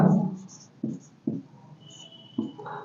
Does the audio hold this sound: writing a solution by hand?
yes